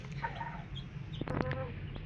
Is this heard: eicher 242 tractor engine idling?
no